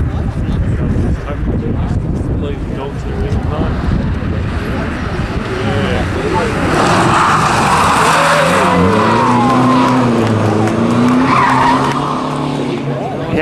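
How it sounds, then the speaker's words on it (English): Hyundai i30 CRDi diesel rally car at Targa Tasmania, tyres skidding and squealing in long wavering screeches over a loud engine roar, close by, with people talking nearby. "Hyundai i30 diesel puts on a show."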